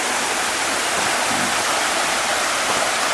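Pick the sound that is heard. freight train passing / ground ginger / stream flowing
stream flowing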